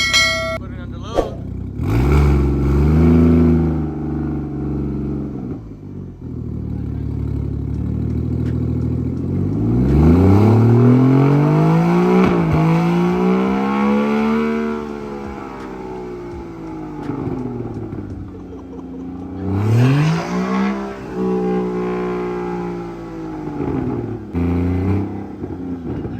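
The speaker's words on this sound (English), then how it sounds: "Put it under load." A straight-piped BMW 335is with a single-turbo N54 engine revs under load in several long, loud sweeps that rise and fall, close to the car, with brief gaps between pulls.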